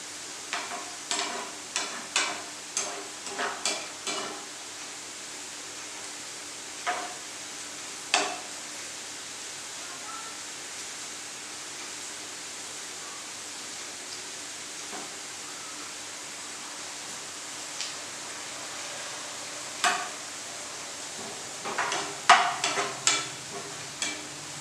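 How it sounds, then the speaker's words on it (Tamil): Onion sautéing in oil for an Instant Pot Hyderabadi biryani, a steady soft sizzle with scattered crackles and stirring scrapes, bursts clustered at the start and near the end, no talk. "அந்த ஆனியன் வந்து இந்த எண்ணெயில் அப்படியே வதக்கும் போது செம வாசனைங்க"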